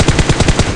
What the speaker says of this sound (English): Heard some gunshots.